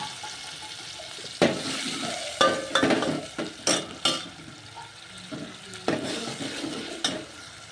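Roasted tomato, chili and garlic dropped into hot ghee in a home kitchen, giving irregular sizzling and stirring clatter with several sharp bursts, fairly close and with no talk.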